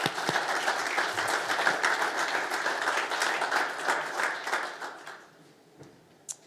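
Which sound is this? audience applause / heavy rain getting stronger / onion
audience applause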